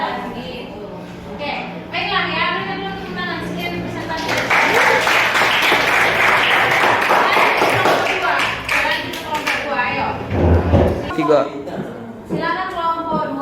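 A class of students bursts into rapid clapping that swells for several seconds and then fades, with people talking before and after.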